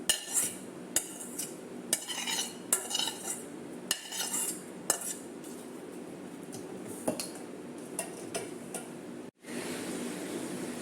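Metal spoon clinks and scrapes against a bowl while ghee-fried ingredients are mixed into unniyappam batter made with frozen banana, giving a series of sharp, irregular ticks and soft stirring close by with no talking.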